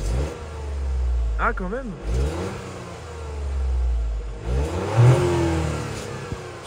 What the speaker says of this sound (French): tu sens que le bruit il vient beaucoup du moteur, pas vraiment de derrière